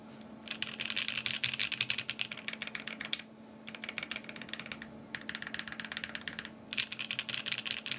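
Typing on a Cannonkeys Brutal 60 keyboard fitted with lubed and filmed Alpaca switches: bursts of quick, soft, muted clacks in rapid rhythm, separated by short pauses, close and fairly quiet.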